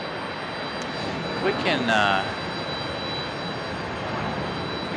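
A JetBlue jet airliner takes off from a runway at Raleigh Durham International Airport, producing a steady, broad engine roar heard from a distance, with a brief human voice over it.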